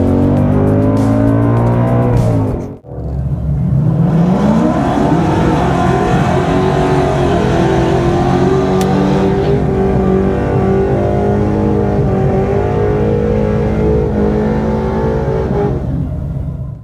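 A car launches from the line at about 3,000 RPM, spinning its wheels, then accelerates hard down a drag strip, the engine climbing through its revs loud and close for most of the run after a brief lull.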